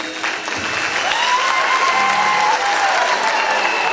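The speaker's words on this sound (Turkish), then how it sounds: "Okul yönetimimizi bence şöyle kocaman bir alkışlayın" Students at a school New Year's rock concert event applauding the school administration, a steady loud wash of clapping from a crowd with scattered voices and whoops mixed in.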